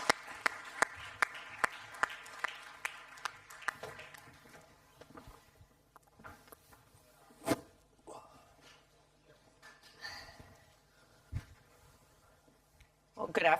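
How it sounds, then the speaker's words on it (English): An audience at a conference panel on ad formats applauds as panellists come onto the stage, a burst of clapping in the first few seconds that thins into scattered claps, rustling and faint voices. "Give them a warm round of applause."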